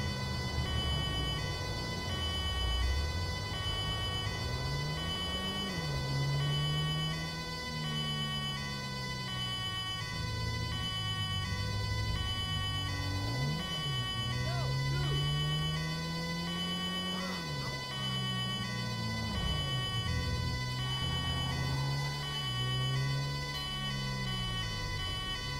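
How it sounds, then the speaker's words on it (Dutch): An ambulance siren from a modded GTA 5 rapid responder vehicle wails continuously and loudly, its pitch sweeping up and down in repeated cycles over a steady engine drone. "Ambulance is er al."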